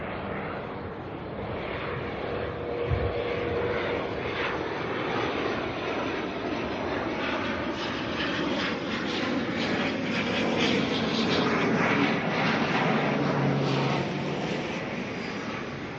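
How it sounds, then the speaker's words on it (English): An ATR turboprop arriving at Auckland from Nelson as flight NZ5076 gives a loud, sustained engine drone with a swelling propeller hum, heard close and alone without speech. "ATR here is coming in from Nelson, NZ5076"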